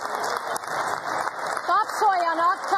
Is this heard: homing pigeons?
no